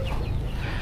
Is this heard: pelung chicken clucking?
yes